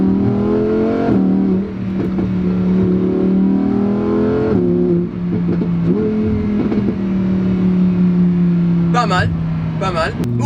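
A Lamborghini Huracan Evo, 5.2-litre V10 in sport mode, accelerates onto a highway, its loud engine note climbing steadily through the gears with brief dips at shifts, someone talking over it throughout.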